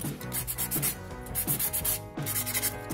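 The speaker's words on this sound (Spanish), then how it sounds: "Suavemente pasamos una lija" Sandpaper is rubbed over metal jar lids in quick, repeated back-and-forth strokes, a close, scratchy rasping with a regular rhythm and no talking.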